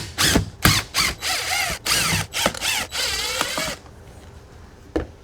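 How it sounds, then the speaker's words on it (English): A cordless power driver backs screws out of an Oreck vacuum's housing: several short, loud whirring bursts with ratcheting clicks, close up, ending in quiet with a single faint tap. "Let's take off these 6 screws and we'll check it out."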